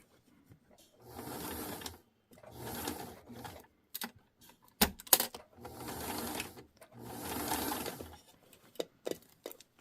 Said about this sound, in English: So I'm just going to go ahead and slowly sew around this dress.